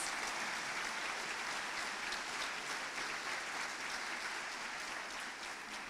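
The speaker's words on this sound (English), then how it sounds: "Please join me in giving them a warm round of applause." Audience applause fills a college graduation ceremony, a steady dense wash of clapping from a large crowd that holds evenly for several seconds before tapering slightly at the end.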